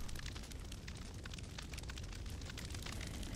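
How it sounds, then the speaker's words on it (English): A gas vent in a survival video game blasts a steady, loud hiss of rushing gas that holds without pause for several seconds, with no voices over it. "There's a gas shooting at me."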